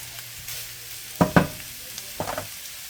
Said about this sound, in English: what you want to do is basically brown your sausage